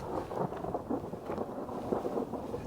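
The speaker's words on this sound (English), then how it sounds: "It's trying to storm." Thunder rolls over a remote desert off-road area during a wild storm, low rumbling rising and falling through the clip with wind noise and a hint of rain, no voices.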